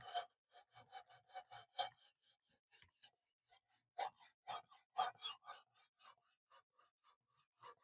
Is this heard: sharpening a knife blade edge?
yes